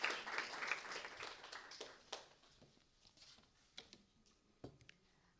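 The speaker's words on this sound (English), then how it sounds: "So let us welcome her with a big, big round of applause." An audience at an International Women's Day celebration applauds a guest speaker: clapping starts fairly strong, then fades quickly to scattered, faint individual claps.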